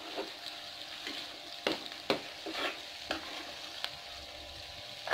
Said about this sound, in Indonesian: Kemudian aduk-aduk lagi mam.